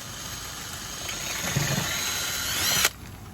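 Power drill with a 1/4 inch bit boring into a vehicle's pinch weld, whirring steadily for a few seconds at close range and rising slightly before cutting off abruptly.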